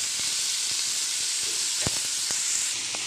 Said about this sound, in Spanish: Ya tenemos aquí nuestro sartén caliente. Agregamos nuestro jitomate y nuestra cebolla.